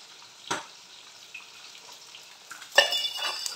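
A finger millet roti roasts on a griddle with ghee, faint hissing punctuated by a tap early on, then a sharper clatter and brighter sizzle swelling toward the end.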